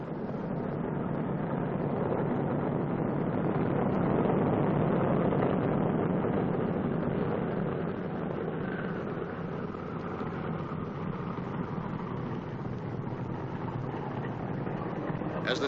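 1944 Boeing B-29 bomber taxiing on a runway, its four large piston engines giving a steady, dense, continuous roar that stays close and loud throughout, with a faint hint of voices underneath.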